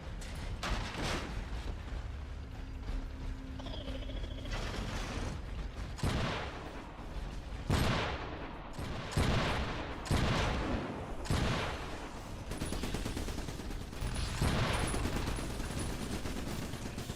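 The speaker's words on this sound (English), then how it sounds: "Shotgun turret inbound to your location." Shotgun turret emplacement in a video game firing repeated heavy blasts, loud and close, in irregular bursts over a constant battlefield rumble with mechanical clanks.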